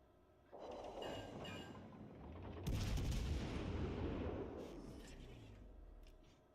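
Heavy naval gunfire from a battleship's twelve 16-inch guns in World of Warships Legends: a deep booming rumble that starts, then a sharper, louder blast about two seconds later, its roar rolling on and slowly fading.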